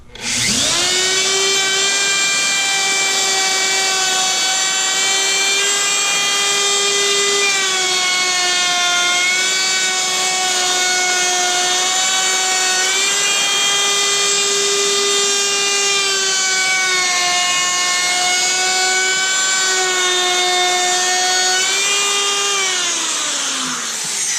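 A router cutting wood trim, a loud, steady high-pitched whine from the spinning bit that starts abruptly and holds with slight wavering as the cut proceeds, close up and alone.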